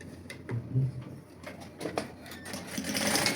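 A sewing machine top stitches a straight seam down Christmas pyjamas with a soft, close, patterned whir that rises toward the end of the run.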